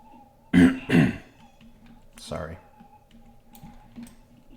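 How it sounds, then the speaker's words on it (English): A man clears his throat twice in quick succession, close to the microphone, followed by a quieter rasp and faint clicks of a computer keyboard in a quiet room. "I usually clear my throat before I start recording."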